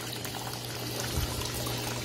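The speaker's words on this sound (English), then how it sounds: "you can just pour the detergent in the dispenser" Detergent is poured into the dispenser of a Laundry Alternative Poseidon washer, giving one soft, brief, quiet trickle with no talking.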